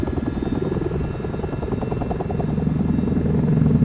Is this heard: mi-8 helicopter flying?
yes